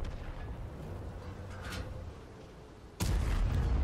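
Tank cannon fire in World of Tanks: a single sudden heavy boom bursts in near the end over a low continuous rumble of battle noise, with no talking.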